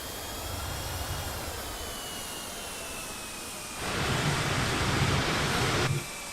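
Jet engines of a Spirit Airlines A321 in Microsoft Flight Simulator 2020 roar steadily with a broad rushing hiss, surging louder for about two seconds before dropping back to the earlier level.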